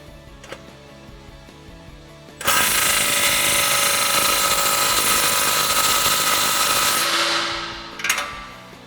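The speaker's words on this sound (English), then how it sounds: "So now I'm going to take my 16 millimeter, tighten this clamp up." A 16 mm wrench tightens the clamp on a polished exhaust tip of a 2009-2018 RAM 1500 with the 5.7L engine. A loud, steady mechanical whir runs for about five seconds, then a couple of faint clicks follow.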